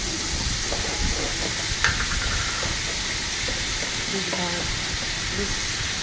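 Chopped tomatoes sauté in hot oil with a continuous broadband sizzle and hiss, and faint clinks and stirring sounds now and then.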